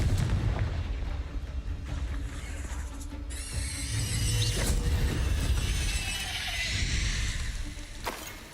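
Confringo blasting spell in a Hogwarts wizarding video game, a loud booming explosion with shattering crackle and rumbling debris, followed by more sharp blasts and sizzling magical effects.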